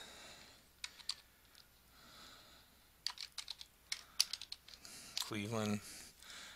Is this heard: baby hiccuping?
no